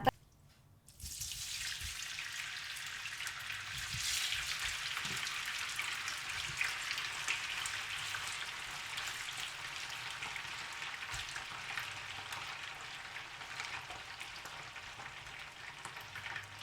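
Steady, fairly quiet sizzling of chicken skin frying in hot oil in a pan, with a continuous crackle and occasional pops throughout.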